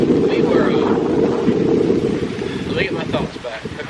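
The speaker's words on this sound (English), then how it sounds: "It's really windy out." Strong wind batters the microphone outdoors on a farm property, a loud, steady rumbling roar that swells and dips throughout, with a voice talking faintly beneath it.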